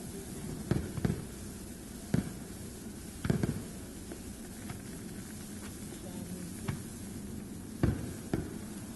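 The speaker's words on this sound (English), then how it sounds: "The beautiful aerial display, courtesy of the world's biggest kid, Lanny Edwards. He loves them fireworks." Scattered fireworks bursts from an aerial display at a speedway pop at irregular intervals, some in quick pairs, over a steady outdoor background hiss, moderately distant.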